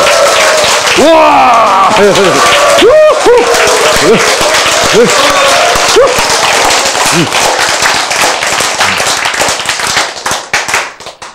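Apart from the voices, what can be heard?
audience clapping and cheering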